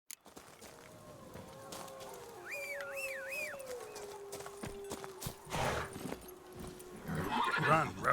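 Geralt's horse Roach in The Witcher 3, hooves clip-clopping in a steady galloping rhythm with a whinny, moderately close, under a voice and background music.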